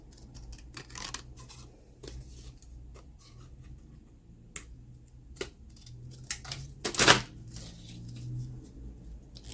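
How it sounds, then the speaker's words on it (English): Scissors snip through paper in short, irregular cuts while a scrapbook journal card is trimmed to shape, quiet and close, with soft handling rustles between the snips. "Just going to cut it down to the shape."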